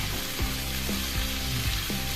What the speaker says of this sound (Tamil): இது வதங்கிடும். இதை நல்லா வதக்கலாம்.